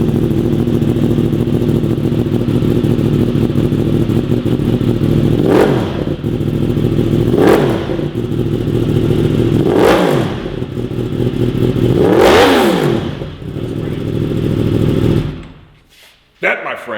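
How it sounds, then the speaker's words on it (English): A sportbike motorcycle engine idles loudly and steadily with four sharp throttle blips spaced about two seconds apart, each rev climbing and falling back, before the engine cuts off near the end. "Show the people what a motorcycle should sound like"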